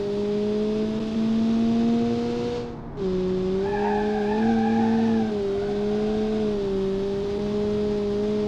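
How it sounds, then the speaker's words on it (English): A front-wheel-drive car drifts in a racing video game, its engine droning steadily while tires squeal in a sustained, wavering screech, all close and loud with no talk over it. "Front wheel drive drift."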